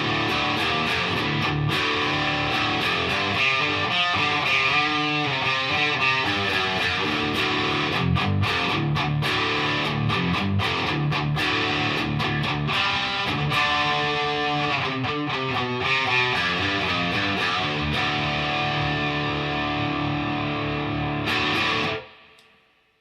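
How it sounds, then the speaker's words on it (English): Heavily overdriven electric guitar in drop D tuning through a Blackstar LT overdrive pedal, playing chunky low riffs with sustained chords, loud and continuous, then cutting off abruptly near the end. "Just a great distortion pedal"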